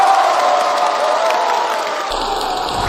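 Applause and cheering at a company meeting announcing a construction firm's winning plan, a dense burst of clapping and crowd noise that shifts in tone partway through.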